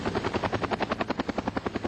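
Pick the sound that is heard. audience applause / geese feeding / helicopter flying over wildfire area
helicopter flying over wildfire area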